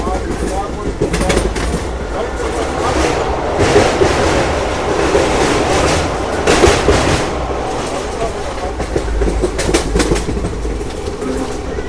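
A passenger train running on rails through open country near Gudur Junction, a steady rumbling roll with rhythmic clatter and brief sharper knocks throughout, loud and continuous, with voices talking now and then.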